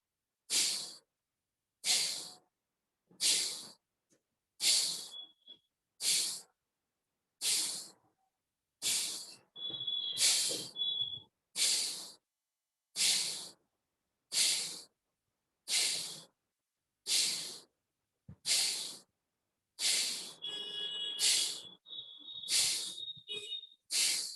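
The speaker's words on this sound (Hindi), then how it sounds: "फेंकते जाइए, निकालते जाइए अपने सांसों को बार बार बाहर की तरफ" Forceful yoga breathing, with sharp nasal exhalations pushed out one after another in an even rhythm, close and loud, about fifteen bursts with brief pauses and a few faint tones between them.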